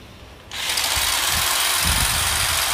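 A Japanese 100V electric hedge trimmer, rated at 100W, starts up and runs with a steady, even buzzing whir. It is close and continuous, with faint low bumps under it.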